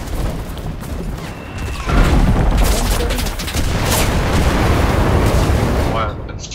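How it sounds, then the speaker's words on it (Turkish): Loud, dense bomb explosions and gunfire rumble through a battle in the WWII shooter game Enlisted, with heavy bursts around two and four seconds under continuous combat noise and a player talking. "Çok pis bomba. Bomba attı."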